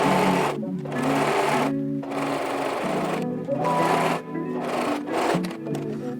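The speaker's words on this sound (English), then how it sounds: "And I'll sew with a 3/8 inch seam allowance here to attach this." Sewing machine stitching a French seam on linen for a summer dress, a steady loud motor whir in several bursts separated by short pauses, with no talking.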